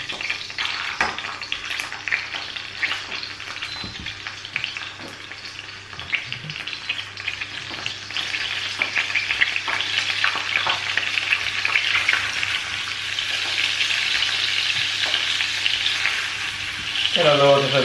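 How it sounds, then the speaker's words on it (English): Meatballs fry in hot oil in a pan, giving a steady, bright sizzle that holds throughout and grows slightly busier as more go in. Occasional soft knocks and stirring sounds break through, and a brief clatter comes near the end. "Put your meatballs in."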